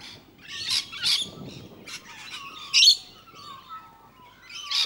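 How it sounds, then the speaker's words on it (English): Birds at Dr Romesh's bird sanctuary chirp and tweet in short bright bursts, several calls close together with softer whistles between, fairly near and alone without talk. "you can recognize it by the sound of happy birds"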